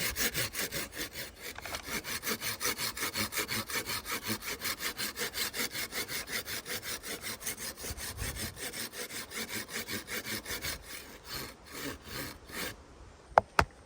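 A hand saw cuts through branches outdoors in steady rhythmic back-and-forth strokes, close and moderately loud, slowing near the end before two sharp knocks.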